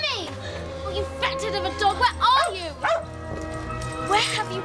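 Timmy the dog barks and yips in several bursts across a few seconds, fairly close, with background music and a voice talking through.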